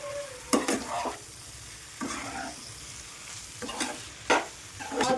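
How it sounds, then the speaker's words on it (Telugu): Spices fry in a pan for a cauliflower egg masala curry, a steady sizzle punctuated by several sharp scraping stirs of a utensil at irregular intervals, close and fairly loud. "కొంచెం సేపు స్పైసెస్ అన్నీ పచ్చివాసన పోయేంత వరకు అయితే ఫ్రై చేసుకుందాం"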